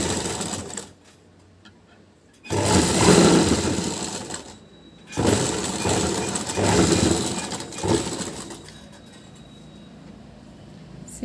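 A sewing machine stitches a blouse in loud bursts of rapid mechanical whirring, stopping and restarting several times with short quiet gaps between runs.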